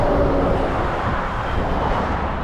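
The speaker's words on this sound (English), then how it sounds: "You'll have to excuse the noise, we're right next to a busy road." Steady roar of passing road traffic, a broad continuous rumble with no voices, fairly loud and close.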